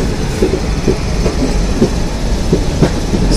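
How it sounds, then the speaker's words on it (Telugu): A train rolls along a curved stretch of track bypassing Vijayawada at night, with a steady rumble and periodic clickety-clack of wheels over rail joints, close and continuous throughout. "సో ఇలా మన ట్రైన్ వచ్చేసి కర్వ్ తీసుకుంది కదా"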